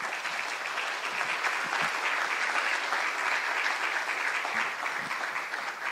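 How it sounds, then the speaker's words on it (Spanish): An audience at an Internet governance panel applauds the panelists, a dense, steady clapping from a large room that holds for the full length without talk. "quisiera que le diéramos un aplauso a nuestros panelistas"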